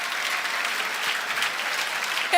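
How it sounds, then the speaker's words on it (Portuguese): A church congregation applauds with dense, continuous clapping at an even level throughout, fairly near, with no talk over it. "Pode aplaudir a Ele"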